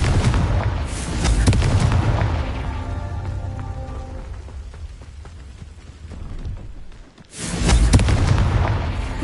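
Blasting curse explosions from the Confringo spell in Hogwarts Legacy, heavy booming bursts with rumbling debris at the start and again near the end, separated by a quieter stretch of game ambience.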